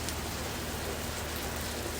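Steady rain patters against the glass of a teahouse window at night, a soft, even hiss with no gaps, faint and continuous with no voices.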